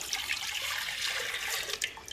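Dissolved sugar water poured from a hot pan into a clean bowl while making sweet bread, a steady close splashing pour with no talking.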